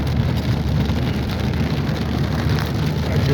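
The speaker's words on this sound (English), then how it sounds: "It is pouring down rain here, people." Heavy rain pouring down in Indiana during a summer thunderstorm, a dense, steady roar of water hitting surfaces with no pauses, loud and close.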